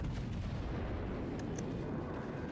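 Naval gun salvo fired at the battleship Bismarck in a video game: a dense, continuous heavy rumble with deep booming that fills the whole stretch at steady loudness, without a single sharp crack standing out.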